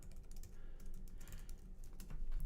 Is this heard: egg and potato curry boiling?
no